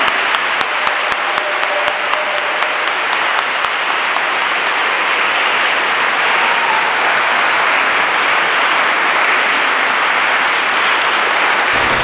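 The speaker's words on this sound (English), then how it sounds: "Give a great applause for our Blessed Virgin Mary for the dedication." A church congregation at a First Holy Communion service applauds steadily for about twelve seconds, a dense, even wash of many hands clapping that fills the hall, with no talking over it.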